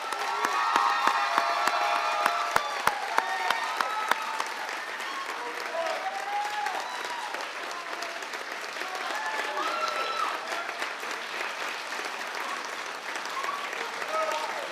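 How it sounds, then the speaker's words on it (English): An audience at a police academy graduation ceremony breaks into sustained applause for the new officers, dense clapping filling the hall with some cheering, steady and fairly loud throughout. "Could you please join me in a round of applause for the graduates of BLE 16?"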